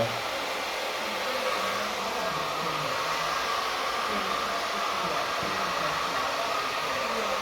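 A hair dryer fitted with a diffuser blows while drying hair during a colour and root touch-up, a steady, even whooshing hum that holds loud and unbroken from start to finish.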